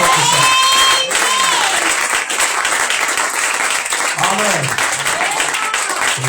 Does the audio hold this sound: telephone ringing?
no